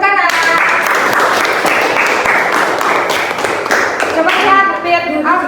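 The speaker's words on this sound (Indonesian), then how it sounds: "Oke, tepuk tangan" Children applauding together in a classroom during a lesson on artificial intelligence, a steady wash of clapping lasting several seconds with young voices mixed in.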